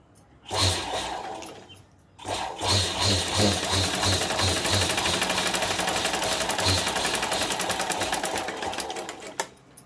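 A sewing machine stitches cloth pieces for a small handmade purse in quick rhythmic bursts of rapid mechanical clatter, with a brief pause before a longer close, loud run.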